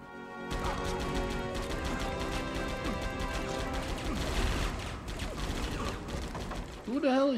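Rapid gunfire in the video game Die Hard Vendetta, dense bursts of shots over game sound and music, with a brief voice near the end.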